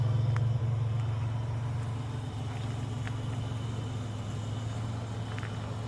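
A 1987 Buick Regal T-Type rolls along with a steady, low engine drone and road rumble at close range, never letting up, and a few faint clicks and taps sound over it.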